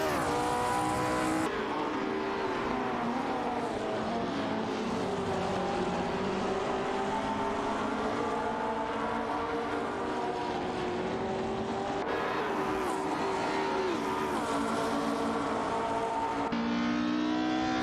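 Race cars in an AI racing simulation game drone steadily with high-revving engines, overlapping pitches rising and falling as cars pass, with a continuous loud roar throughout.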